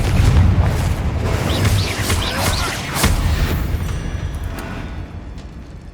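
Incendio and Confringo spell blasts in Hogwarts Legacy: deep, loud booming explosions that rumble and decay over a few seconds, with a brief voice under the din.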